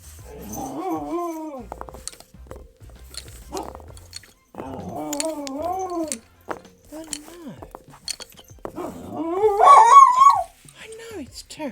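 A dog howls and whimpers in drawn-out, rising and falling cries, several bursts spread over the stretch with a louder yowl near the end, mixed with a person talking.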